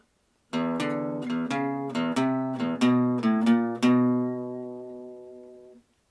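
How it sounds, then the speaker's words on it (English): A clean guitar plays a short descending blues turnaround phrase of plucked notes, ending on a chord that rings and fades out. "we're going to learn a classic and really simple blues turnaround first"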